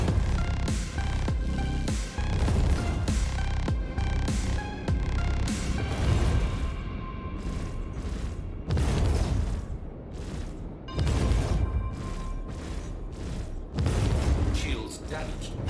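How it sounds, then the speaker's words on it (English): Gunfire and explosions in the space game Star Citizen, with loud repeated booming blasts and bursts of weapon fire in uneven clusters, a voice speaking over the combat. "Oh, they're shooting me for sure."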